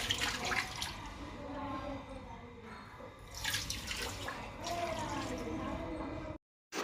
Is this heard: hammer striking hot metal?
no